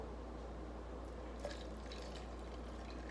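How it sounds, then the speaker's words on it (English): V8 Spicy Hot juice pours into a glass with a faint, steady trickle and small drips under a low background hum. "It's filling up pretty quick not gonna be a whole lot of room for the for the beer"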